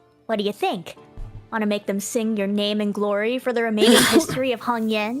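A sneeze erupts midway through spoken dialogue from a character in the game Limbus Company, a sharp burst between voices talking before and after it.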